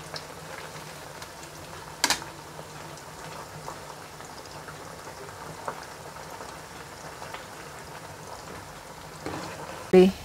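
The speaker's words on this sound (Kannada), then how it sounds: "ಇದನ್ನು ಜಾಸ್ತಿ ಏನು ಫ್ರೈ ಮಾಡೋದಿಲ್ಲ ನಾವು, ಸ್ವಲ್ಪ ಕೆಂಪಾಗುವವರೆಗೆ ಮಾತ್ರ." Cubes of paneer fry in a pan for matar paneer, giving a steady, bubbly sizzle throughout, with a few sharper crackles and a voice talking over it.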